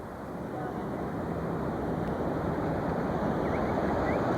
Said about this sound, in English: Look at those waves.